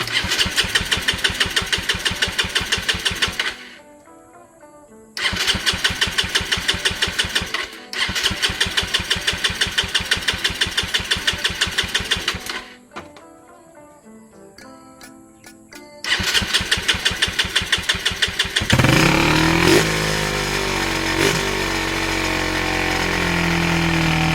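A 2023 Suzuki Raider motorcycle with carburetor trouble is cranked by the starter in several buzzing bursts with pauses, then fires and settles into a loud, close, steady idle.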